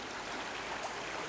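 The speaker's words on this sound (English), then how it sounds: "This is the river." Steady broadband rush of a flowing river inside the Osun Osogbo Grove in Nigeria, near a suspended bridge, continuous and even with no voices.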